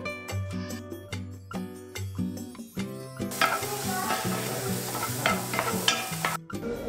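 Onion and mushrooms sizzle in butter in a hot pan, with repeated scraping and stirring, and the frying hiss grows louder partway through.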